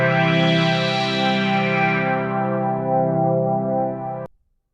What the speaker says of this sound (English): Might thicken it up a little bit with the chorus. Maybe do just a little bit of the overdrive